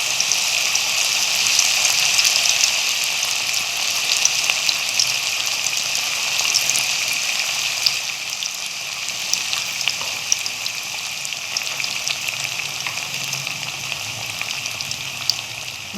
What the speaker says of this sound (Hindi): इनको हमने गोल्डन फ्राई करना है।